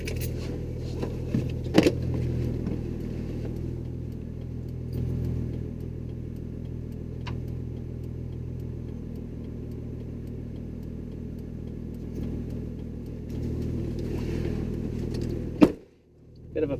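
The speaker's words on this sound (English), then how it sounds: "let me just park here quickly as I get out of my gate" A right-hand-drive Toyota Supra is parked at a gate at night, its engine idling low and steady throughout, with a few brief knocks and a sharp transient near the end before the engine cuts off.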